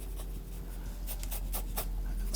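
A pencil sketches a cartoon character's head on paper, giving soft, close scratchy strokes in short bursts against faint background hum.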